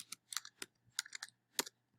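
Someone types a web address on a computer keyboard, a quick, quiet run of close key clicks in small irregular clusters over a faint steady hum.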